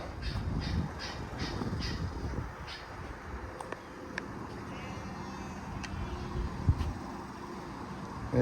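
Crows caw several times at a distance over steady outdoor wind noise and low rumble, with people around a 1971 Chevrolet Chevelle Malibu 350 being inspected for purchase.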